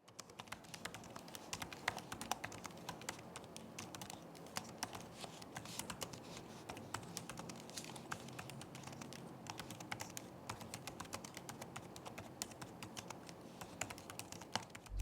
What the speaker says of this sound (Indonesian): berikut ini adalah contoh suara feedback dari keyboard Lenovo Yoga Slim 7 Pro X